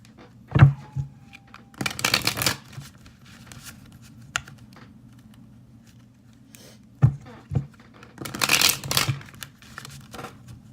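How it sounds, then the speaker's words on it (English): Tarot cards are shuffled in two short, close riffling bursts separated by quiet pauses, with a few soft taps and handling sounds between. "I'm going to do 3 shuffles"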